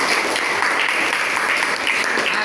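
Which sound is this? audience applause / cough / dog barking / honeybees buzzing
audience applause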